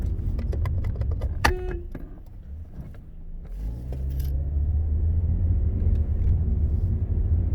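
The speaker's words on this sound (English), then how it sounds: "There's traffic" Road traffic rumbles steadily, with a car passing close and swelling in low engine noise, along with a brief metallic jingle like keys; no one speaks.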